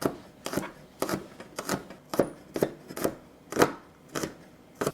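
A knife chops garlic on a cutting board with steady, evenly spaced thuds, about two per second, each one crisp and close, with no talking over them.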